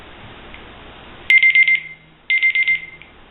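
A kitchen timer goes off after 15 minutes while Easter eggs soak in food-coloring dye, giving two loud bursts of rapid electronic beeps about a second apart over a quiet background.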